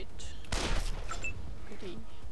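A short, dense burst of gunfire rattles out in a video game, with a voice speaking before and after the shots.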